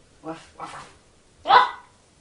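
Three short, close vocal bursts from a dog: two soft yips followed by a louder single bark, separated by brief pauses in an otherwise quiet room.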